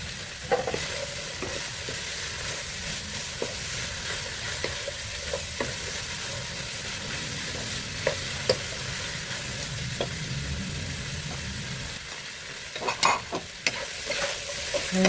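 Cabbage for pancit palabok is stir-fried in a pan, giving a steady close sizzle throughout, broken by repeated scraping stir strokes and a short burst of clatter near the end.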